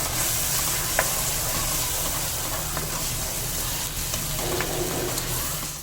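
Paste mixture for kofta curry frying in a pan, a continuous dense sizzle with occasional soft scrapes and clinks as it is stirred.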